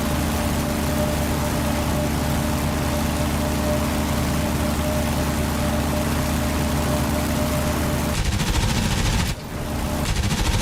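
A steady, loud droning F4U Corsair fighter engine whistle in a video game runs continuously, then briefly cuts and dips near the end before resuming; no voices.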